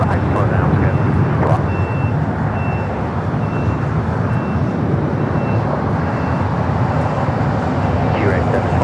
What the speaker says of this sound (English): Heavy departure there on the north side.